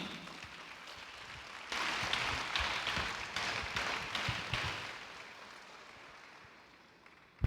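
A church congregation at a Sunday service claps for the preacher, the applause faint and distant at first, then swelling into a steady, moderate clatter before slowly fading away.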